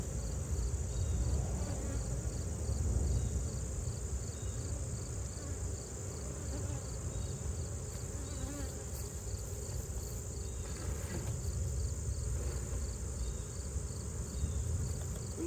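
A steady, dense insect drone of many honeybees buzzing close by around a hive frame, continuous throughout with no talking.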